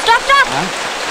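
Steady rain hisses throughout, with a couple of brief tonal calls near the start.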